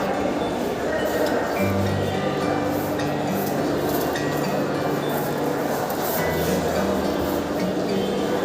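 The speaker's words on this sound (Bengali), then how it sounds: "স্টেশনে এসে গেলাম। আমাদের ট্রেন 10 নম্বর প্ল্যাটফর্ম থেকে" A train at a railway station, heard as a steady loud rumble with clinking metallic sounds and low droning hum throughout, noisy and continuous.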